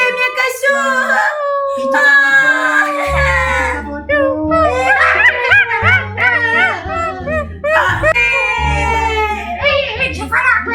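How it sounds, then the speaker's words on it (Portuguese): A dog howls and yelps in rising, wavering cries, close and fairly loud, while excited voices talk over it. "Achei um cachorro!"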